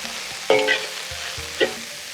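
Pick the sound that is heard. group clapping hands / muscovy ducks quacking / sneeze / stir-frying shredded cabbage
stir-frying shredded cabbage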